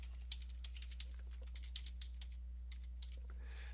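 Computer keyboard typing in a quiet room, a quick irregular run of soft key clicks under a low steady electrical hum.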